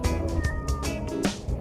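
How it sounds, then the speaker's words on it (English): A cat meows repeatedly up close, several short loud calls in quick succession, heard outdoors at a Caribbean spearfishing spot with low background noise and no talking. "Would you like some fish, kitty cat?"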